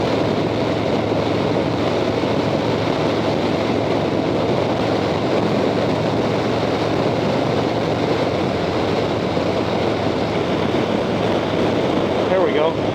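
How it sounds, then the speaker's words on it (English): Wind buffets a rider's helmet on a Harley-Davidson Softail Fat Bob motorcycle, making a constant loud, rushing roar that fills the whole stretch with no pause. "Buffeting on the helmet's pretty crazy. There's a bit of wind fighting me here."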